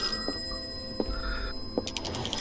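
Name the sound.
telephone ringing in the video game Call of Cthulhu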